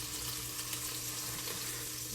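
Cube steaks fry in avocado oil in a crock, a steady quiet sizzle and crackle holding evenly throughout with no talk over it.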